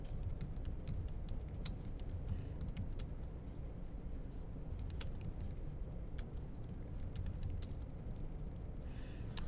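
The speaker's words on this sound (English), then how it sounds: "Type in a description." Quick keystrokes clatter on a computer keyboard in bursts of rapid taps over a steady low background hum, fairly faint and close, with no one talking.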